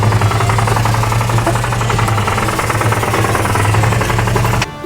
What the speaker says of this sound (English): No knocking whatsoever, just the compressor.